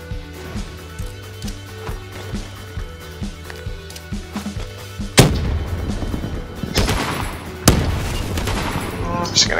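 Gunfire from a zombies video game on a custom icy Alpine mountain map: a fast, steady string of shots, then two heavier blasts over a dense, loud game soundscape.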